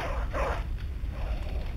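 A dog in a Bloodborne demake game barks and yips a few times in quick succession, close and fairly loud over a low background hum.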